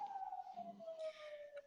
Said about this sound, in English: excuse me, the sirens.